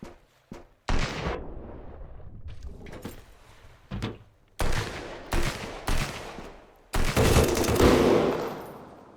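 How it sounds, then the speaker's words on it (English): Bursts of gunfire ring out in Sunkenland, the video game, in several loud separate volleys with sharp onsets and short decays. Quieter clanks and thuds fill the gaps between them, and no voices are heard. "Who is shooting at me?"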